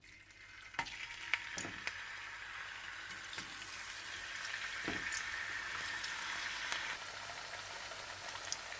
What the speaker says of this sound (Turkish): iki tane patatesi güzel güzel ince ince kestim ve bunları hafif yağda kızartıyorum